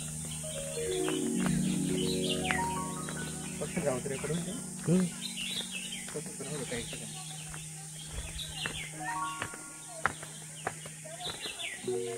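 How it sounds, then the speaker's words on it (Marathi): Birds chirp and call around a cashew tree in rural Konkan, with varied calls and a possible rooster among them, under people talking nearby. "ऐकू शकता पक्ष्यांचा किलबिलाट किती मस्त आहे"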